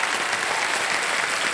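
Studio audience applause on the Kaun Banega Crorepati quiz show, a dense continuous clapping wash that is loud and steady for the whole brief stretch.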